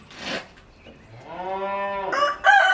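A farm cow named Candy lowing for her morning feed, one long, clear, resonant moo near the microphone, followed by a sharp bird call, likely a rooster or hen, on a quiet farm.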